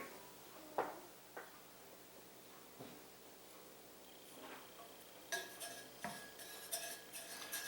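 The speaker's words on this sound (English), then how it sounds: "I'm just going to stir this for a second with my measuring spoon to get it cleaned off" A metal measuring spoon clinks against a bowl while stirring cookie ingredients: scattered light taps at first, then quicker, brighter clinks and scrapes close up in a quiet kitchen.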